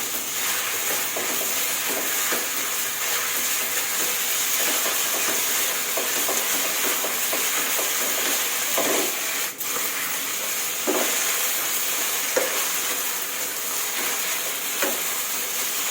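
Wide rice noodles stir-fried hard in a hot wok, a steady loud sizzle with repeated scraping strokes of the spatula throughout.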